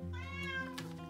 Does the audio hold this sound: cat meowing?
yes